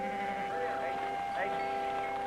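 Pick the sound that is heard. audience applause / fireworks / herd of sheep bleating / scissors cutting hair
herd of sheep bleating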